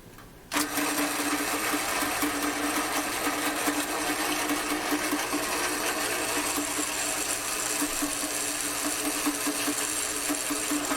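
A drill bit boring a hole into a brass part, a steady whirring motor drone with a constant hum that starts abruptly and runs without a break.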